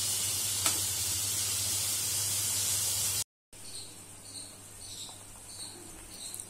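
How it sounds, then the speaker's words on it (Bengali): Onions frying in oil for Kashmiri chicken kanti sizzle steadily up close for a few seconds. After a brief cut, a quieter hiss continues with faint high chirping tones. "পেঁয়াজটা ভাজা হতে থাক।"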